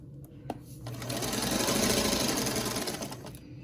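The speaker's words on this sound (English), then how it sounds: "I'm just going to continue sewing, and I'm going to do this row" A sewing machine runs steadily for about three seconds, stitching a quarter-inch seam on a schoolhouse quilt block, with a fast, even mechanical whir that rises after a brief start and stays close and prominent throughout.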